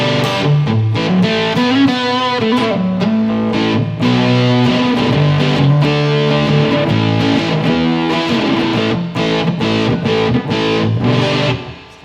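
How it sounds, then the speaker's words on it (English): Electric guitar played through a fuzz pedal in the AmpliTube app on an iPhone, a thick, buzzy sustained tone with chords and riffs ringing steadily and loudly for the whole stretch, no voice over it. "so there's also the fuzz pedal."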